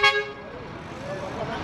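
A loud vehicle horn toots in a short blast at the start during unrest in Tinkune, Kathmandu, followed by a continuous rumble of traffic and crowd noise.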